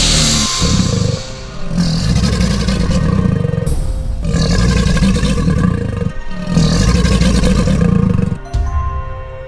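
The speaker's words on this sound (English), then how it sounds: "Alligator." An alligator bellows in three long, loud, rumbling calls, each lasting a couple of seconds with brief breaks between them.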